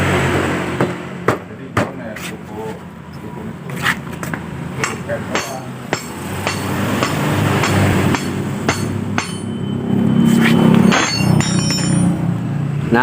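Metal hammer blows strike a Yamaha Mio scooter's cylinder head to loosen it during engine teardown, repeated sharp clanks at an irregular pace over a steady background hum, with a voice speaking.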